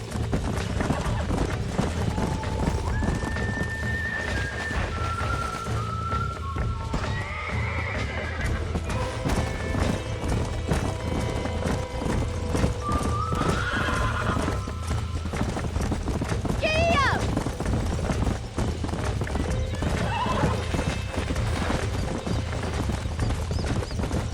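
Horse hooves clip-clop steadily throughout while a horse whinnies several times, with people talking over the rhythmic trotting, in the video game Red Dead Redemption.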